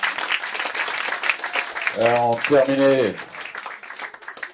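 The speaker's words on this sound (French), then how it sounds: "On applaudit encore une fois, mesdames et messieurs" Applause from an audience at an evening cabaret-style show fills the whole stretch, steady and moderately loud, while a voice speaks and sings briefly over it in the middle.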